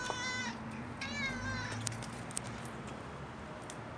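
Cats meowing at feeding time, with a few high, drawn-out meows from close by early on, then quieter rustling and faint clinks.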